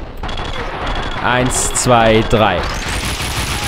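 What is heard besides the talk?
gunfire in the video game Max Payne 2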